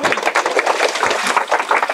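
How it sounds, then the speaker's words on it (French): A congregation breaks into applause after a baptism by immersion, dense rapid clapping from many hands, loud and continuous with slight swells, nobody speaking. "Applaudissements."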